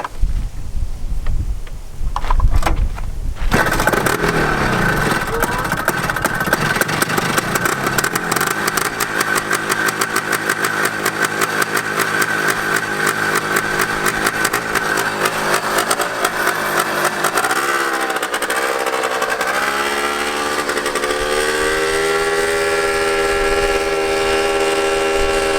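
A 1979 Odyssey FL250 two-stroke off-road go kart starts up, then its engine revs and drives steadily for over twenty seconds, a loud buzzing drone that rises and falls in pitch near the end.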